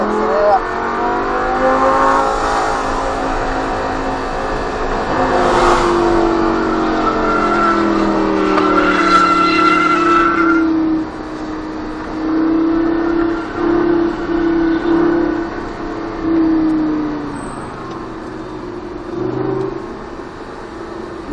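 A Lamborghini Gallardo LP 560 with a 560 hp engine accelerates on the Trappes race circuit, its engine note rising steadily and loud, then holding a sustained high drone, with an instructor talking over it.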